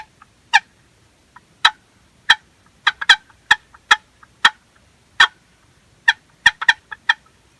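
Sharp, isolated clucks from a box turkey call, struck one at a time at irregular intervals, some in quick pairs, against a quiet background.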